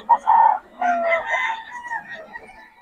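A rooster crows loudly and close by, followed by chicken clucking and squawking, with no other sounds around.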